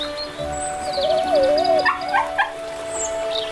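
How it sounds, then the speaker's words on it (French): A dog by a river whines and yelps in a rising, wavering cry followed by several short high barks, fairly close and loud against a hum in the background. "À qui est ce chien? Pourquoi le laisse-t-il tomber dans la rivière?"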